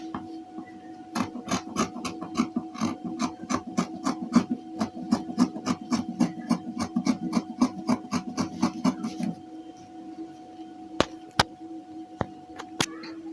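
Scissors snip rapidly through dress fabric while cutting out pattern pieces, a quick steady run of crisp close cuts followed by a pause and a few separate snips.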